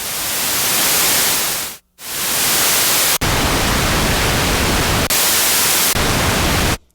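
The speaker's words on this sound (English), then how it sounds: "White and pink noise." Steady hiss from the noise source of a restored Minimoog synthesizer, alternating between white and pink noise in loud sustained blocks with abrupt switches and a brief dropout near two seconds.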